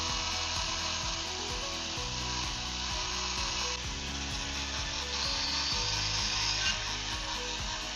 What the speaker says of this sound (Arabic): وهبدأ اشتغل بدريل في تحديد الشغل بتاعي ده بشكل مبدئي